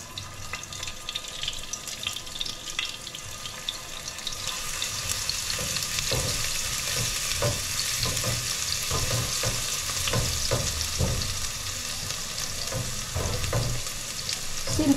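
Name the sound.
garlic frying in cooking oil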